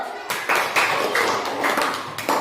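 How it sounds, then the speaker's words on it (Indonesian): A class of students claps hands in a classroom, a few uneven bursts of mid-loud clapping that start, fade and restart, with a teacher's voice faintly present. "Tepuk tangan dulu"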